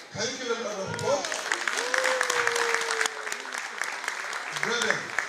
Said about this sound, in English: Man, can you give them another applause?